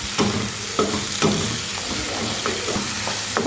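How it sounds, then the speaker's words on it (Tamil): Tomatoes frying with ginger garlic in a pan for a gravy, stirred with repeated spatula scrapes and taps every half second or so over a continuous loud sizzle. "தக்காளி சேர்த்து நல்லா மிக்ஸ் பண்ணிக்கோங்க."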